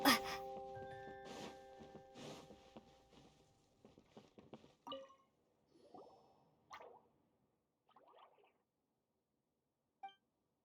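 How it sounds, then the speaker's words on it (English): Water droplet dripping inside a video game, soft isolated plops and drips spaced irregularly, each fading quickly into near silence, after a louder cluttered start. "it sounds like a water droplet is on the second floor"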